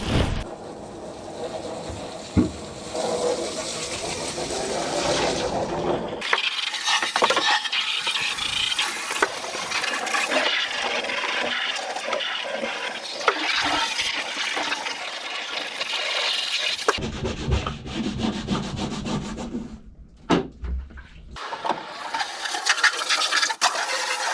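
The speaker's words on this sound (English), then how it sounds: "got stuck in with brushes, soap and plenty of water" Brushes scrub a Land Rover Defender 90 with soap and plenty of water, giving close, rough swishing and splashing strokes in uneven bursts, with short pauses between passes.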